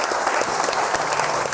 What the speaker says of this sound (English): Round of applause for Ireland.